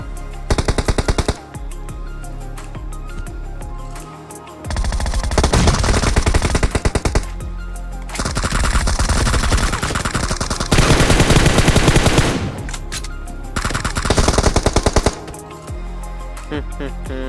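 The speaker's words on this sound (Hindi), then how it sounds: "उधर से और एक टीम आ गया है और वो लगातार हमारे ऊपर फायरिंग करे जा रहा है।" Gunfire in the mobile battle royale game BGMI, loud bursts of rapid automatic fire alternating with single shots and short pauses over about seventeen seconds.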